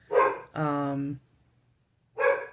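A dog named Ginger barks indoors during a spiritual card reading, giving a few loud, close barks: two bursts in quick succession, a pause of about a second, then another bark.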